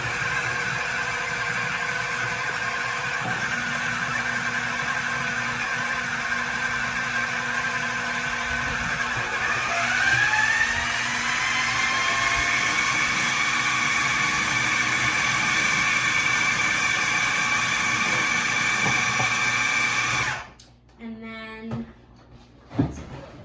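A food processor runs with a steady motor whine as it cuts butter into pie dough for a blueberry pie, pitch rising slightly partway through before it switches off with a few clunks.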